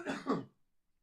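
A person with a lingering flu clears their throat and coughs twice in quick succession, close and fairly loud, then silence.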